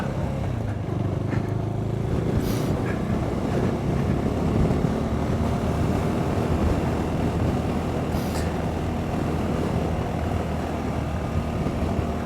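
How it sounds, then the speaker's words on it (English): A KTM 390 Duke motorcycle rides along a gravel road. The engine drones steadily, and heavy wind rush buffets the microphone throughout, with no talk. "I decided to do the smart thing and take the KTM on a gravel road."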